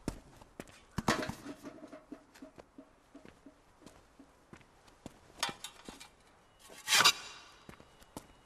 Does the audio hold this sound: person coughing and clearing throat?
no